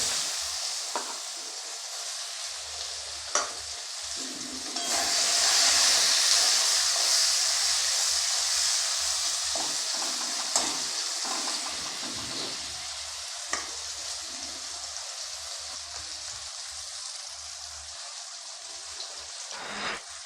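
Bay leaves, chili powder and chopped onion frying in hot oil give a steady, loud sizzle that swells briefly, with occasional stirring scrapes.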